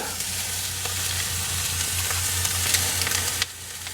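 Chicken wings sizzle on a hot Kamado Joe grill: a dense, continuous crackling hiss over a low steady hum, close and fairly loud, ending abruptly with a short drop near the end.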